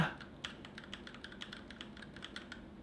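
Keychron mechanical keyboard being typed on, a quick, steady run of light clicky keystrokes heard close and fairly quiet, with no talk.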